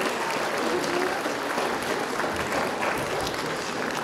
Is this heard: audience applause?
yes